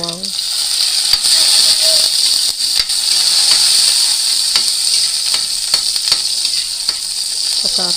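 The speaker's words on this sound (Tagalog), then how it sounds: "Gigisahin ko ang sibuyas" Onion and garlic sauté in a hot pan, a steady loud sizzling hiss close by with occasional clicks and stirring scrapes throughout.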